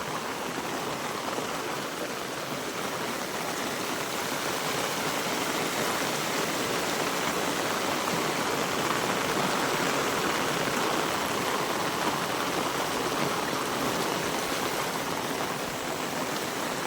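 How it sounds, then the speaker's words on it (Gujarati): A river swollen after heavy rain flows with a steady, unbroken broadband rush, even and moderately loud throughout, with no voices or other sounds above the water. "તો મિત્રો આપણે પાણી સારું આવી ગયું નદીમાં"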